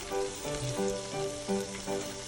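Okra (ladies finger) sizzles in a pan on medium flame, a close, steady frying crackle with soft stirring bumps as the pieces are turned.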